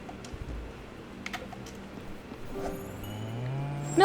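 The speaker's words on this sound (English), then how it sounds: "I'm gonna milk this cow, though." A cow in the video game Spiritfarer moos during milking, a short, rising low call near the end, after a stretch of soft keyboard tapping and clicks.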